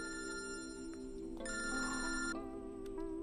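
A telephone rings nearby with a bright, electronic, tonal ringtone that repeats as a steady melodic pattern, with no voices.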